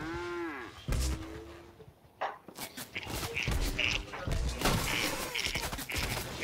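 A cow in a Fortnite Creative zone wars match lets out a drawn-out, wavering moo at the start, followed by footsteps, bursts of gunfire and other game noise.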